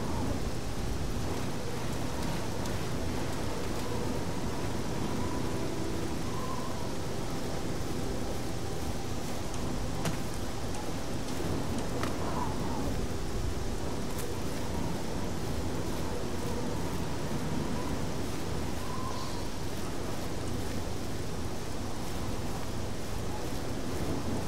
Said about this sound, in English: don't know if the thunder is from outside and in here